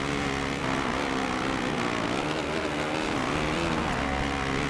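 A Kawasaki motocross bike engine races in the MXGP 2 motocross video game, a loud, steady, buzzing engine drone that holds at high revs for the whole stretch with no talk over it.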